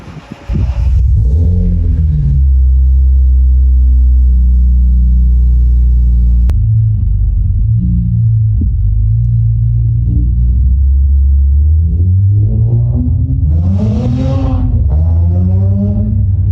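A BMW E46 M3 engine with catless headers starts and settles into a deep, loud rumbling idle, then revs up a few times with rising and falling growls nearby.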